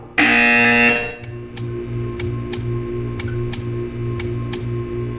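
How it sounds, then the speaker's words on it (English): A loud, steady buzzer sounds for about a second inside a test chamber in the video game Portal 2, followed by a low electrical hum with faint, evenly spaced ticks. "You will hear a buzzer."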